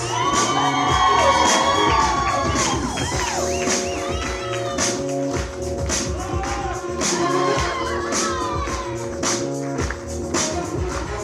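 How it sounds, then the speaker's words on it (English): A wedding crowd cheers, shouts and claps steadily as another member of the bridal party enters with her escort. The noise is loud and sustained over background music, with bursts of whooping. "Give it up for Andrea, escorted by Ross."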